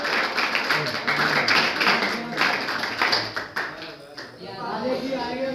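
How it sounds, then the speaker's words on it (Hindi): An audience claps hands in welcome at a gathering, a dense, steady patter of many hands close by, mixed with voices talking over it. "तालियों से स्वागत फिर करते रहो"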